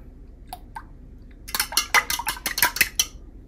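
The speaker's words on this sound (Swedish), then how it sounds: "Jag använder en gaffel för att dela sönder lite grann." A fork beats eggs in a bowl for an omelette, a few light taps and then a quick run of clinking metal-on-dish strokes, close and crisp in a quiet room.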